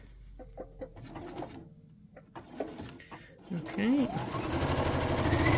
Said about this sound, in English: then you're going to sew your seam allowance